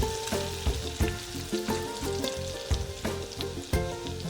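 Garlic fries in hot oil with crackling mustard seeds and cumin for a yellow potato dish, a quiet, close sizzle with rhythmic stirring clatter and pops repeating throughout, no speech.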